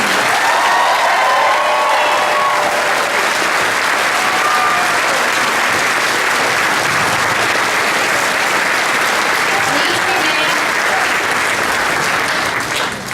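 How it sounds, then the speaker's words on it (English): Loud, sustained applause from a large graduation audience for the band, choir, speakers and the class of 2017, a dense unbroken wash of clapping lasting throughout. "would everyone please join me in one more round of applause for our band and choir, our speakers today, and most importantly, the class of 2017"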